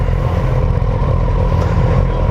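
A 2019 Suzuki GSX-S 1000F engine, a loud steady throbbing drone with a low pulsing rumble and no break, recorded close while riding.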